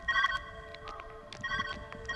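A telephone rings in the puzzle video game Viewfinder, a faint electronic trilling in short repeated bursts over quiet background, no talk.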